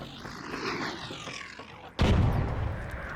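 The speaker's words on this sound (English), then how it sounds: "this is where he starts to return fire" Enemy Bombardier in ARC Raiders returning fire: a sudden loud, heavy boom bursts in midway after steady rumbling game noise, its dense low roar sustaining to the end.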